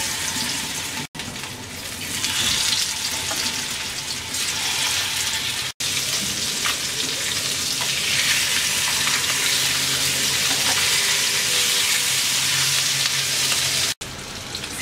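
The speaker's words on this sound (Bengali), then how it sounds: "এবার মাছটা ভেজে নিচ্ছি" Rohu fish frying in hot oil in a wok, a steady loud sizzle and crackle running throughout, with a few brief breaks in the sound.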